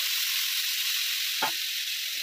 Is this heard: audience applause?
no